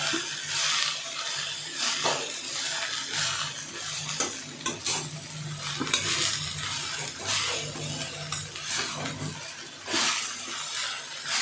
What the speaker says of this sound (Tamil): எண்ணெயிலே தான் வதக்கணும்